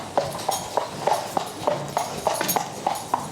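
Horse hooves clip-clop in a steady, even rhythm at a working horse facility, about a dozen sharp, close strikes over a light background hum.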